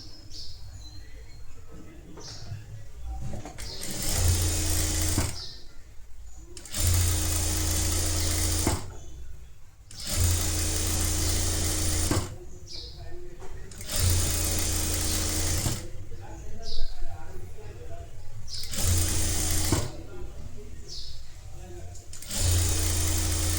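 Sewing machine stitching netted blouse fabric in repeated bursts of fast mechanical whirring, each run several seconds long and separated by short pauses, with a person talking faintly between the runs.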